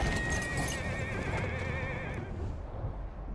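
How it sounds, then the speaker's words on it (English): A horse in the Battlefield 1 video game whinnies loudly and shakily for about two seconds, with hoof clip-clops and battle ambience underneath, then it fades out. "The fucking horse"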